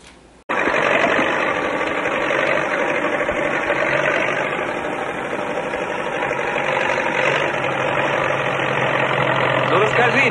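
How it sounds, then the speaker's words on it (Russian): An old tractor engine runs in a 1920s feature film, a steady mid-pitched idle with a rough knocking throb that starts abruptly and continues throughout, with speech heard over it. "Представь себе, вон там идет трактор"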